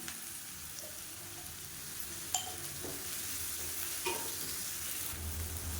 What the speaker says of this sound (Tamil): அதை நல்லா வதக்கி விட்டுக்கலாம். வெங்காயம் வதங்குறதுக்கு உப்பு சேர்த்துக்கலாம்